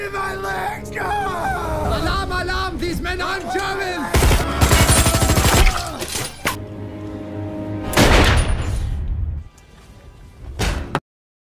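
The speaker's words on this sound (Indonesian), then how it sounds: "Baku tembak pun terjadi." Gunfire exchange sound effect for a WWII documentary scene, with loud bursts of shots in two heavy clusters over a musical score, separated by quieter stretches and a final sharp crack before silence.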